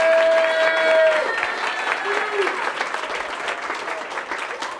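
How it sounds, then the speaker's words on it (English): A crowd at an event gives a standing ovation to welcome a presenter, with loud sustained clapping from many hands, a whistle early on and voices mixed in throughout the cheering. "please give him a really loud round of applause and stand up and welcome him here"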